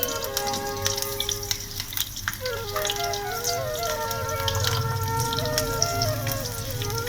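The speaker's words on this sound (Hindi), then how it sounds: "उसी पैन में हमने 1 स्पून लिया है घी, उसमें एक कुचली हुई लहसुन की कली जाएगी" Steady sizzling of crushed garlic, green chilli and cumin frying in hot ghee, close and continuous, with occasional utensil clinks and a faint tonal hum underneath.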